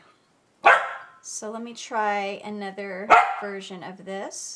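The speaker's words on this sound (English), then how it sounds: "that's my dog barking" A dog barks several times nearby, sharp and repeated, while a person talks over it.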